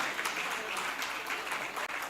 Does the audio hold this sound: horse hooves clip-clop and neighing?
no